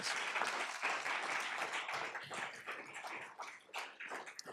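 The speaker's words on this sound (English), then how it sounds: "Let's give her a huge round of applause." Applause at a school board meeting honouring a student champion, a fairly faint, steady patter of many hands clapping in a room that rises and falls slightly over several seconds.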